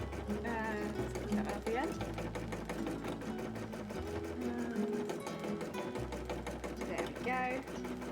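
A sewing machine stitching cosplay fabric, its needle running in rapid steady bursts with brief pauses, close and loud, while a person talks over it.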